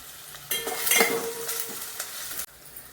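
Onions sautéing in a pan for dal curry, a bright close sizzle that starts abruptly and holds for about two seconds, with stirring scrapes and a utensil clink, then cuts off.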